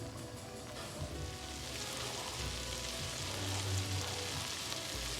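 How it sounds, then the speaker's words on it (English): Minced garlic, about three cloves' worth, sizzles steadily in a hot pan, a continuous dense frying hiss with a faint low rumble beneath, holding constant throughout with no voices. "you're going to cook that just for about 30 seconds until the garlic is fragrant"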